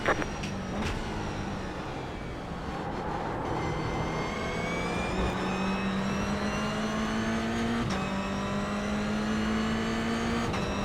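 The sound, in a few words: race car engine accelerating on track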